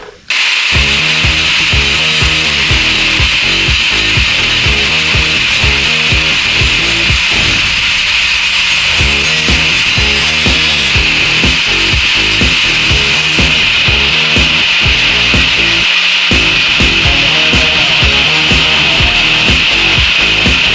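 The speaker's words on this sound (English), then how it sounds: "Alright, let's try a little grinding and" Power grinder working over thin body filler and short-strand fiberglass on a car body, a loud continuous abrasive whine with rapid rhythmic pulsing and brief dips as the tool shifts, running alone for about twenty seconds.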